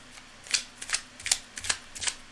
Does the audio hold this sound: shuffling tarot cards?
yes